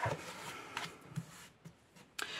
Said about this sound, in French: Les traits, nous n'en avons plus besoin, donc on va tout simplement les effacer